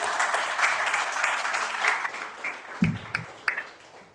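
Light, scattered clapping from a modest gathering at a memorial service, soft and fairly even, with a few brief murmurs and voices near the end.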